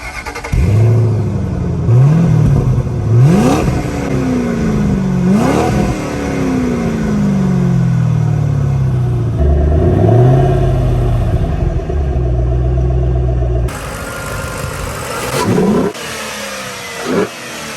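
A 2007 Mustang GT Premium Convertible's V8 is revved repeatedly, each throttle blip rising and falling sharply before settling into a deep rumbling idle, loud and close with no talking.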